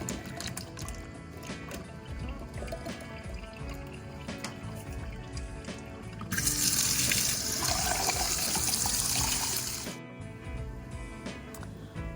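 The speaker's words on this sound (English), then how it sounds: "I'm also using a can of Mexican mixed beans, which I put into a colander and rinse off." Tap water running over canned Mexican mixed beans in a colander, a steady close splashing hiss that swells louder for a few seconds in the middle before easing back.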